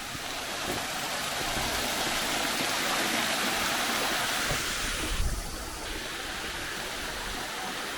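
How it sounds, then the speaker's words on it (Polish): A small waterfall stream among the boulders of the Valley of Giants in Uman, giving a steady broadband rush of falling water that holds even and continuous from start to finish, with a brief bump of nearby handling noise midway. "Tam chyba jest wodospadzik."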